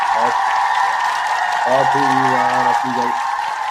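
Applause sound effect plays as a steady wash of clapping under someone talking.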